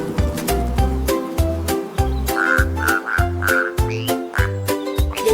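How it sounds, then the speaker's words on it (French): Frogs croak in a steady rhythmic pulse, loud and close, set against a bright melodic backing of a children's song. "Les abeilles bourdonnaient doucement et les grenouilles commençaient."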